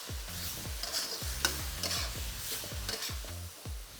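Teriyaki noodles and sauce stir-frying in a wok without being flicked, a steady loud sizzle broken by rhythmic scraping strokes of a utensil against the metal, several per second.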